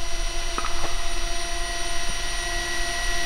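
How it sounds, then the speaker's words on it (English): A DJI Avata drone's propellers spin at a steady, loud hum with a constant whine, punctuated by a couple of brief clicks, and no voices. "The propeller spinning, yeah."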